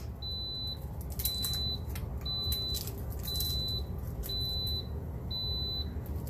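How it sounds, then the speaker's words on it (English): Kitchen timer beeping during home dinner cooking: six evenly spaced electronic beeps, each about half a second long, repeating steadily over a busy background of kitchen clatter. "the timer is going off"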